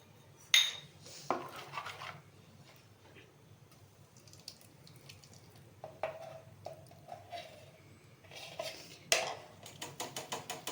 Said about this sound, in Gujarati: હવે આ થાળી લઈશું, એમાં તેલ લગાડશું ને આપણે 2 આ વાટકીયું મૂકશું